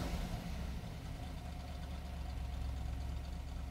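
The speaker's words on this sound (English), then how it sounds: "It's got that nice little lope to it with that mild cam that's in this car." A classic Mopar muscle car engine with a mild cam idles with a slight uneven lope, a low steady rumble heard fairly quietly throughout.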